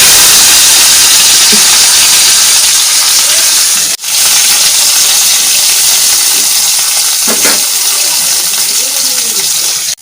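Bitter gourd frying in hot oil with five-spice seeds: a loud, continuous hissing sizzle fills the whole stretch, with a brief dip and a few soft clinks of stirring.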